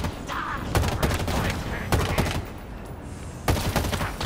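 Bursts of automatic assault rifle fire in Halo Infinite, several loud volleys of rapid shots separated by short pauses, with a steady game-soundscape rumble underneath.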